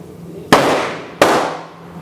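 A Ruger Super Blackhawk revolver fitted with a UTG 2-7X illuminated handgun scope is fired twice at a range, two loud sharp reports about 0.7 seconds apart, each followed by a short decaying echo.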